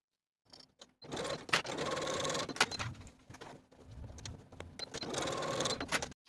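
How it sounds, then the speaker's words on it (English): A home sewing machine stitches a long basting seam along trouser fabric edges, running in two sustained bursts of fast rhythmic whirring with a short pause between, close and fairly quiet with no voices. "take it to your sewing machine and baste those edges in place with a 1/2 inch seam allowance"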